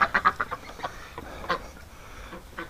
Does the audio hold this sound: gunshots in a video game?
no